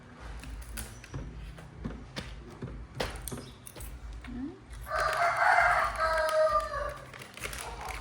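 A rooster lets out one loud crow lasting about two seconds, after a few seconds of knocks and faint household sounds.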